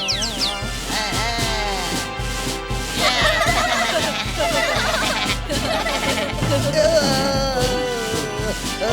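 Cartoon horse from Chhota Bheem gives a long, warbling whinny in a Tamil-dubbed scene, fairly loud and mixed with background music and other voices.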